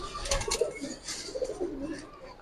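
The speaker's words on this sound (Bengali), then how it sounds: "এই এক জোড়া জিরাগলা কবুতর" A pair of jiragola pigeons, part of a giribaz pigeon collection, give soft, faint throaty coos in a short murmuring sequence nearby.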